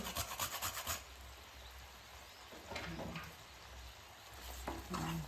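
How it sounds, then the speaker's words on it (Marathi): Nutmeg being grated in a village kitchen gives rhythmic, close rasping strokes at the start, followed by quieter intermittent scraping and rubbing, with no voices. "थोडंसं जायफळ किसून घेणार आहे"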